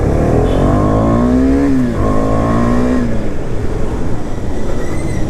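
A Husqvarna Svartpilen or Vitpilen 250 motorcycle with the KTM 250 engine accelerates, its engine tone rising through a gear change amid steady loud wind and road rush, with no talk.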